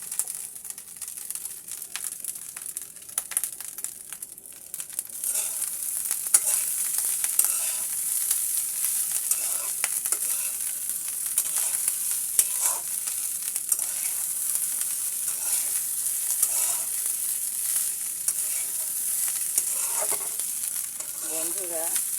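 Fried rice is stir-fried in a pan, with a high, continuous sizzle and scraping, rustling stirs that grow louder after a quieter opening and keep going close up.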